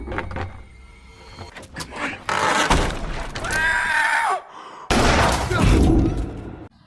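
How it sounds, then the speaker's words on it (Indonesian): Several gunshots fired from a doorway in a dark home-invasion thriller scene, sharp loud bursts with harsh crackling tails in two clusters, amid tense movie sound effects and background music. "tiba-tiba Norman datang dari pintu itu dan langsung melayangkan beberapa tembakan"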